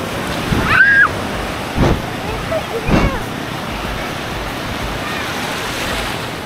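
Sea waves at Cox's Bazar beach wash in as a steady broadband roar with wind, several louder surges rising over the surf, and voices speaking nearby.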